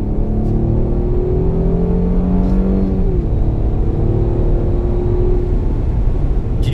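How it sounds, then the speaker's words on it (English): A 2019 Mercedes E450 with its 362-horsepower engine pulls hard in Sport Plus mode, a loud, steady engine roar from inside the cabin that climbs through the revs, dips briefly at a gear change, then climbs again, with no talking over it. "So I put it into Sport Plus mode, the most aggressive mode, and we're gonna unleash all 362 horsepower."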